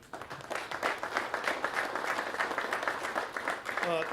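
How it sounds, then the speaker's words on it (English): An audience applauds at a press event announcing BMW's support for the BMW Championship golf tournament at Castle Pines, steady clapping filling the room for a few seconds. "So big round of applause for BMW."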